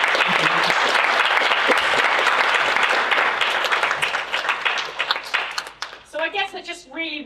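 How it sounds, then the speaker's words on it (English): An audience at a student biomedical science congress gives a speaker a warm round of clapping that stays dense at first, then thins and fades as a voice begins talking near the end. "Round of applause for Rob."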